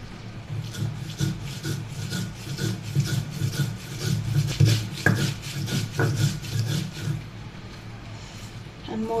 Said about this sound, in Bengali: এখন শুটকিটা বেটে নেব মরিচের সাথে।